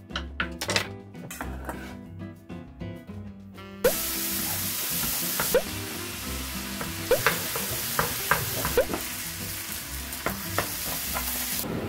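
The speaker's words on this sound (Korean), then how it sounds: "그러면 김치 볶음밥 만들어 가보겠습니다" Kimchi fried rice is stir-fried in a pan: a loud, constant sizzle with repeated scraping and clacking of a utensil against the pan, close up, with no voices.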